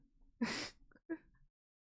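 A cat gives a single short, sharp sneeze, followed by a smaller sniffly exhale, then silence.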